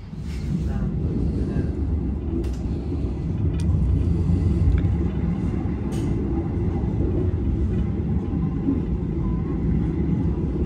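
Inside a carriage of the KA Matarmaja train between Blitar and Semarang, a steady low rumble fills the space, with occasional faint clicks and creaks and a voice speaking softly beneath the noise.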